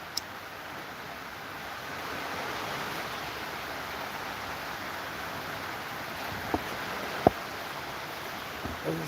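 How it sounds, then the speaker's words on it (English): Steady hiss of rain falling outdoors, even and continuous, with a few faint taps and knocks. "probably hear the rain starting to come down more than the waves now"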